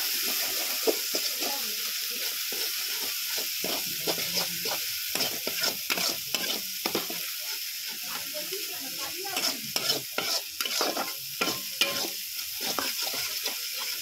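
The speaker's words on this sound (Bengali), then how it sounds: "দেখুন এবার আমি জলটা দিয়ে দিচ্ছি" Water added to a fish curry of lata fish frying in oil in a pan, a steady close sizzle with bursts of bubbling and spatter, no talk.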